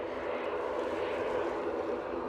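An ATR turboprop's engines hum at Edinburgh Airport, a steady, moderately loud broadband drone from a plane lined up for takeoff, with no talk.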